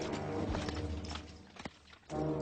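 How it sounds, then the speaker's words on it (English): Hooves of Pegasus, the winged horse, clip-clop in an animated telling of the Bellerophon legend: a run of steady, fairly loud steps over a dense, busy backdrop, breaking off briefly near the end before it swells again. "I want that horse. Bring Pegasus to me"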